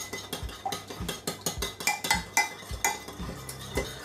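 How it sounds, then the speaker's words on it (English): Eggs being stirred into a dry mix for pumpkin bread, a utensil knocking and scraping against a bowl in a quick, uneven rhythm of close clinks with no talking. "Let's mix the eggs in here."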